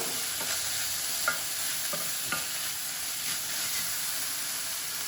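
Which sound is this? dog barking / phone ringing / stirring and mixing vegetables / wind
stirring and mixing vegetables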